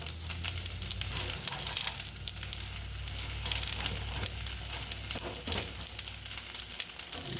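Rice frying in a small amount of oil in a pan, a steady sizzle with crackles and scraping stirs, close and continuous with no talk.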